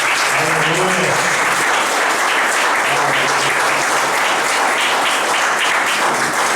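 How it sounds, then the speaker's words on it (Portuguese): A church congregation applauds Jesus in loud, dense, sustained clapping, with voices rising beneath it. "Vamos aplaudir Jesus."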